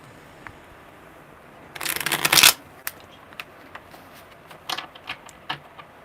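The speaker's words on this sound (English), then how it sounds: "Okay, Warrior Girl, tell me when to stop shuffling." Tarot cards shuffled during a live one-card reading: a dense, loud riffle burst of about a second, followed by scattered light card taps and flicks, with no talking.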